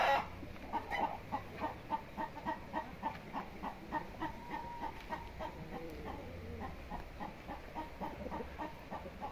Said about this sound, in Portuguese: Olha o jeito que fica as galinhas